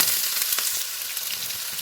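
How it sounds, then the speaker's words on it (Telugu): Chopped onions frying in hot oil in a pan for a chicken fry, a loud, steady, close sizzle with no voices. "ఇవైతే మనకు ఫ్రై అయిపోతున్నాయి. సో ఈ టైంలోనే మనం ఆనియన్ యాడ్ చేసుకున్నాం."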